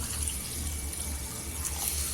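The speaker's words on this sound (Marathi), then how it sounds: "इथे पाणी टाकून घ्यायचं पाणी नेहमीच कोमट घ्यायचं" Lukewarm water is poured into a cooking pot for a rustic spicy brinjal curry, making a steady, continuous splashing stream that runs at moderate level without pause for the whole stretch.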